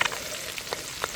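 Eggs frying in oil at a family picnic: a steady low sizzle with faint crackles and a few soft pops, close and alone with no voices.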